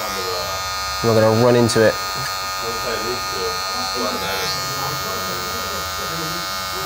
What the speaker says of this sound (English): we're going to use the corner clipper.